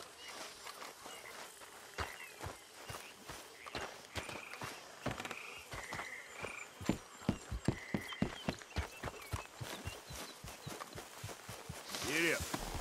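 Hooves of a horse ridden in Red Dead Redemption 2 clop along in a steady, close, rhythmic trot that goes on throughout, with a brief burst of louder noise near the end.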